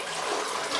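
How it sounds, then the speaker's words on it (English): A toilet flushes after a bucket of water is dumped into the bowl, giving a brief, steady rush of water heard up close with no voices. "All right, the toilet flushes."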